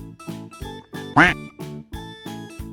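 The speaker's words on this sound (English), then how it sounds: "You got it right, it's a little duck." Cartoon-style duck quacking, a rapid series of about nine nasal quacks in a regular rhythm, loud and close, with one louder squawk in the middle.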